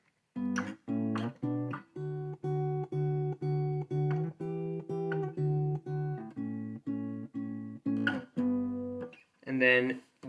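Acoustic guitar strums the intro chords of a song at full tempo, sustained chords ringing in a steady rhythm with slides between positions, close and clear with no talking over it.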